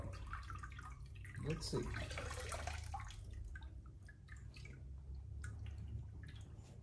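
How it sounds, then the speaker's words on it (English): A Dellorto DRLA 40 carburetor part, just out of a muriatic acid bath, is dipped and rinsed in plain water, with continuous close sloshing and dripping and a brief spoken remark early on. "You're gonna dip it in the regular water."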